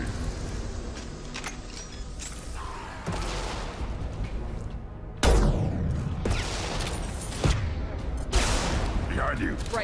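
Gunfire in the video game Mass Effect Legendary Edition comes as bursts of shots and heavy booms mixed with mechanical clatter, with sharp impacts scattered across the clip.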